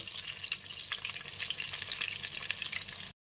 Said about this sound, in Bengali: মাছগুলো এখানে উল্টে পাল্টে ভালো করে ভেজে নিয়েছি